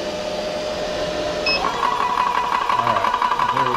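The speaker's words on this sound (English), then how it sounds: "And we're going to press this button to start, and we're going to run a timer." A Benjamin Traveler air compressor starts up after a brief beep and then runs with a steady, loud mechanical whir and rattle, heard close with no talking.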